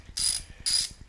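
A ratchet clicks rapidly in two short bursts, close and crisp, while Allen bolts are worked loose from the engine cover of a 2011 Yamaha XT250 motorcycle.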